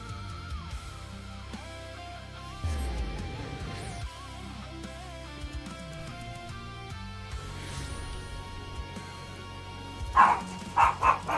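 A dog barks a few times in the background, sharp loud yips near the end over steady electronic game music.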